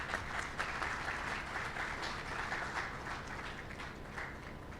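Audience at a university homecoming president's reception applauds steadily as a speaker is welcomed to the podium, a dense, even wash of clapping heard from within the room.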